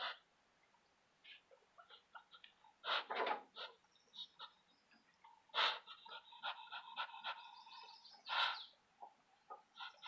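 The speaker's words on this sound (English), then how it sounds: "this is how a broody Muscovy acts. She puffs and huffs." A broody Muscovy duck hen on her nest huffs and puffs in quiet, breathy bursts, some sharper and louder than others, heard near and irregularly spaced.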